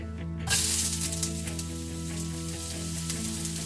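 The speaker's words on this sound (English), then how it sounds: "And we fry this onion for about 2 to 3 minutes until it starts to get golden color." Chopped onion hitting about two tablespoons of hot olive oil for sweet and sour chicken: a sudden loud sizzle that settles into a steady, close, even frying hiss, with no talk.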